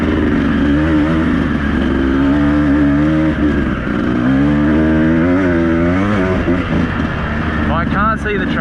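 A Beta 200RR two-stroke dirt bike rides a track, its engine droning loud and close throughout, pitch rising and falling as the throttle opens and eases, with faint talk at moments.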